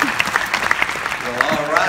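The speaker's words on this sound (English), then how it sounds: "Please give another round of applause." A crowd claps at a Los Angeles film premiere for the movie Hostiles, with applause running under a speaker's amplified voice in a large venue.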